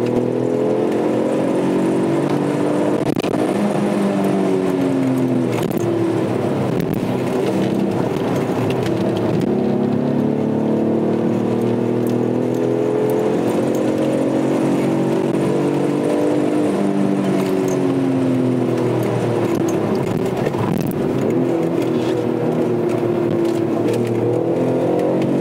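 An Alfa Romeo GT with the 3.2 V6 Busso engine revs up and down repeatedly, a loud, close, continuous engine note rising and falling in pitch over the whole stretch.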